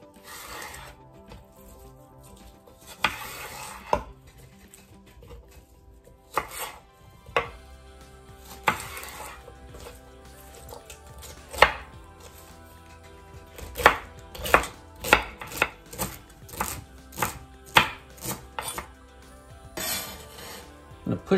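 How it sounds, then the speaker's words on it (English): A knife chopping celery stalks and leaves on a board for a summer broth, with scattered cuts early on, then a quicker run of crisp, close taps with small clinks between them. "So I'm gonna cut it up fairly small so it all has time to cook up and get soft."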